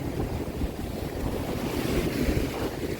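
Steady roar of sea waves washing in, heavy with wind buffeting the microphone, continuous and loud with no voices.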